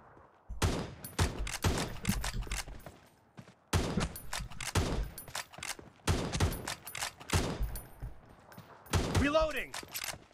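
Bursts of automatic gunfire in PUBG Mobile come in several loud volleys of rapid shots separated by short pauses, with a player talking over the action.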